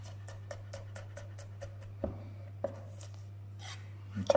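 Herb leaves being finely chopped with a knife on a board: a quiet, quick run of regular sharp taps that slows into a few scattered knocks, with some faint rustling near the end.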